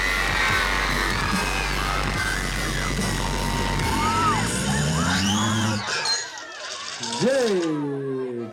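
A concert crowd at a show in Nyáregyháza screams and yells loudly and continuously, with whoops and shouted voices rising over the dense roar and rising and falling tones near the end.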